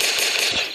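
Rapid gunfire in a PvP match of the video game Dude Theft Wars, a dense burst of shots filling the whole short moment, loud and close with no talk over it.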